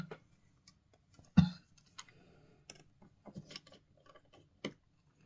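A small screwdriver works on the tiny ear speaker screws inside an iPhone 11, making faint, sparse clicks and ticks with brief scratchy bursts in a quiet room.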